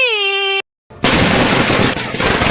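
A short tonal call breaks off into silence, then a loud, dense crackle of firecrackers tied to a rooster bursting in rapid, overlapping pops during a wedding ceremony.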